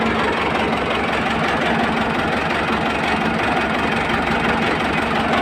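A farm tractor's engine runs steadily and loudly up close, a dense continuous drone with a rough, knocking low rumble and no variation or voices.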